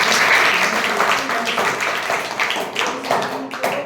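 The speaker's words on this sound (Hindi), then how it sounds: "इन दोनों शिक्षक शिक्षिकाओं के लिए जोरदार तालियों से स्वागत है" Audience applause for two teachers at a summer vacation camp in a village panchayat, a steady mass of clapping carrying through the whole stretch with some voices mixed in.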